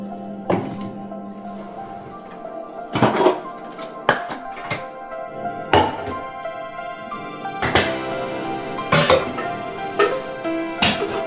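Stainless triply steel pot lids set down and swapped onto pots in a kitchen, giving a series of sharp metallic clanks and ringing clinks spaced a second or two apart, close and fairly loud with no talk.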